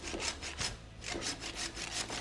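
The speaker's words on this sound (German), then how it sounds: "Wir sägen jetzt hier noch ein bisschen" A mediocre hand saw cuts through a tree branch at an autumn campsite, with steady back-and-forth rasping strokes, roughly two per second, close and clear with no talking.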